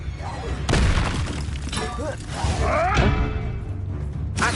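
A Confringo blasting spell cast in the video game Hogwarts Legacy bursts with a loud boom and shattering crash, followed by whooshing swells and a further blast, all dense and close.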